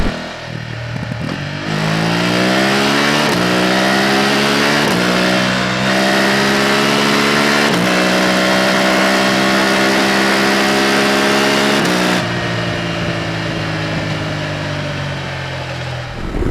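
BMW F900 GS motorcycle with a 106-horsepower engine accelerating hard while riding, rising engine pitch through several gear changes, each shift dropping the note before it climbs again, loud and close with wind.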